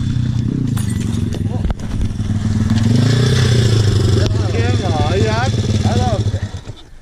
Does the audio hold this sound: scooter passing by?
yes